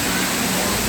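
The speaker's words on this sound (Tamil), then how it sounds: "இது வந்து ஒரு நேச்சுரலான ஃபால்ஸ் மாதிரி வந்து ரெடி பண்ணியிருக்காங்க." Steady rushing water from an artificial waterfall built to look natural in a park at Mettupalayam, a continuous broadband roar filling the whole moment with no breaks.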